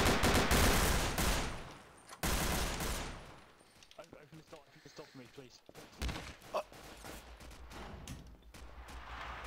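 Semi-automatic gunfire in Garry's Mod, a dense run of loud shots and bursts followed by quicker, lighter reports, mixed with frantic talk.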